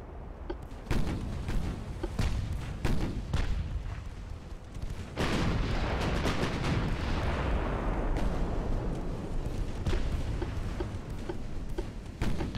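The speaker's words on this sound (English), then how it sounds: "We take another torpedo." The dreadnought SMS Szent Istvan takes a torpedo hit in Ultimate Admiral: Dreadnoughts: a loud, booming explosion with a long rumbling decay, surrounded by sharp repeated artillery blasts and impacts.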